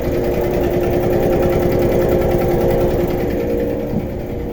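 A large old air compressor motor runs at close range at a truck brake shop, a loud, steady mechanical hum with a fast rhythmic chugging pulse throughout.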